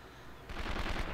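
Gunfire aimed at the player character in 24: The Game on PlayStation 2: after a quiet build-up, a sudden burst of rapid shots breaks in and keeps rattling steadily, fairly close.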